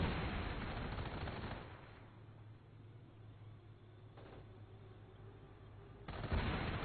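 Tank cannon and machine-gun fire rattle through a competitive strategy game battle, with dense bursts of shooting at the start and end framing a quieter stretch of distant rumbling combat.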